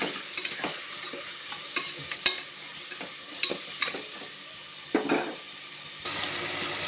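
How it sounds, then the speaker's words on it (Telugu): Goat head curry being stirred in a pan after salt is added: a series of uneven scraping and clattering strokes over a soft sizzle, then a steadier hiss near the end. "ఉప్పు వేసి బాగా కలదిప్పి మూత పెట్టుకోవాలి."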